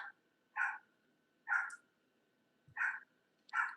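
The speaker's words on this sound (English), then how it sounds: "Y'all hear the dog just going crazy." A dog barks excitedly in the background, four evenly spaced sharp barks, faint and distant, with no talk over them.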